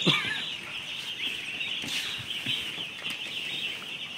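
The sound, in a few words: chicks on a poultry farm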